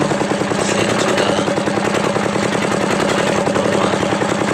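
A repaired diesel generator engine runs steadily at idle, a loud, close, continuous rhythmic chugging knock with no pauses and no talking.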